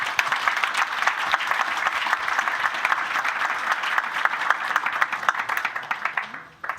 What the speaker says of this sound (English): please join me in doing another round of applause to our speakers